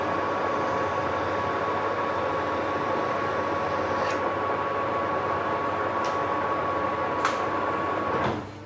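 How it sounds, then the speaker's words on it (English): Deburring a machined steel part with a small tool, a steady broadband grinding whir with a faint tonal whine running continuously, a few sharp ticks near the end as it winds down. "I'm just going to deburr this now."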